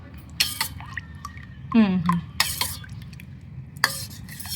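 A spoon stirs buttermilk with cold water in a vessel, with a few sharp clinks against the sides, and a brief voice in the middle.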